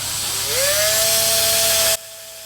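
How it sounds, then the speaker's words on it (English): Electric drill spinning a tapered wooden end down into a 1/4 inch plug on a Harmony Model 1327 guitar build, a steady whine that rises in pitch as it speeds up, then cuts off abruptly after about two seconds. "I'm going to run the drill, and you're going to watch this get turned into a 1/4 inch"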